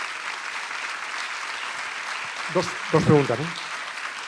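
Steady applause from a lecture audience at a 2018 Valparaíso talk on politics fills the whole stretch as a dense, even clatter, and someone speaks briefly over it near the end.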